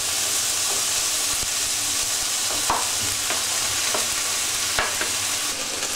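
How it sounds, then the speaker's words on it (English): Lamb and vegetables stir-frying in a pan with orange and ginger, a steady broadband sizzle with occasional scrapes and clicks of stirring, close and continuous without talk. "we'll just gently stir fry those again for a few minutes"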